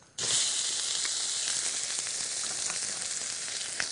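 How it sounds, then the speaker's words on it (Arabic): Meat sautéing in about a spoonful of oil on a hot pan for sfiha on the saj, a steady loud sizzle and crackle that starts abruptly and continues alone with small pops. "هحط حوالي معلقة من الزيت وأبتدي أشوح اللحم."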